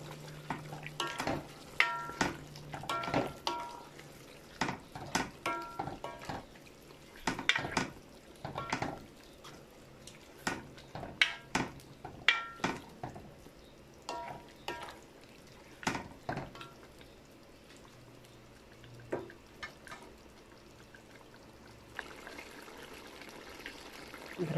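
Spicy Bicol Express being stirred in a cooking pan, with a utensil repeatedly scraping and clattering against the pan in irregular bursts over a soft background simmer.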